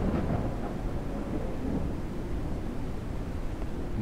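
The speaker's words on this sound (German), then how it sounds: "da draußen tobt absolut das Unwetter" Thunderstorm raging outdoors in the survival game Mist Survival, a steady low rumble of rain and rolling thunder filling the whole stretch at moderate level, with no voices.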